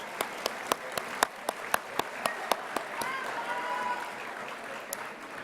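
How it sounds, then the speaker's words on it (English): Applause at an 8th grade graduation ceremony for the signing students, sharp, evenly spaced claps ringing out up close before a steady murmuring crowd wash takes over. "let's give our signing students a nice round of applause"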